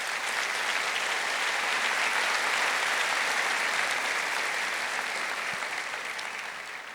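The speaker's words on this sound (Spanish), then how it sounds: "Dale un aplauso a Jesús" Sustained applause from a church congregation honoring Jesus during a Spanish-language sermon, a dense, steady wash of clapping that holds strong for several seconds before slowly tapering toward the end.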